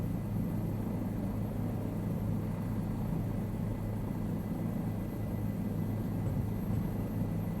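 A helicopter in Microsoft Flight Simulator flies at about 40 knots, giving a steady low rotor and engine rumble with a constant hum. The level stays even throughout, with no voices.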